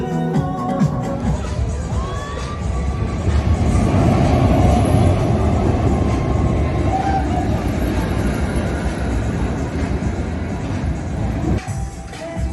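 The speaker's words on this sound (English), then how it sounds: "That coaster looks like it bullets around the track." A three-car roller coaster train at Vienna's Wiener Prater runs along its track as a continuous rumbling roar that swells and holds for several seconds, with faint crowd noise in the background.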